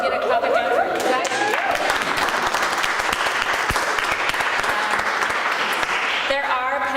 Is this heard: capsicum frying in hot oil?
no